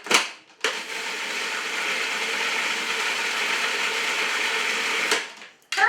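Food processor running while it purees a vegetable sauce, a steady whirring motor drone that starts abruptly, holds even and loud, then stops, up close with no talk.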